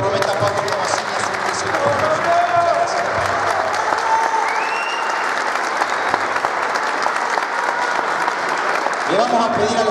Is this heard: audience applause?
yes